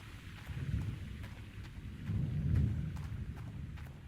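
Thunderstorm ambience in the video game Gold Rush: The Game: low rolling thunder rumbles swell and subside over a continuous hiss of rain, with faint scattered drop ticks and no voices.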